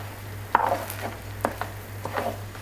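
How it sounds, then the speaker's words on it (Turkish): A spoon stirs freshly cooked rice pilaf in a pot, making a few soft scraping and clinking strokes against the metal over a low steady hum, with no voices. "Şöyle bir kere karıştırıyorum ben"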